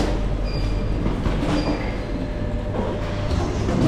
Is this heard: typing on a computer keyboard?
no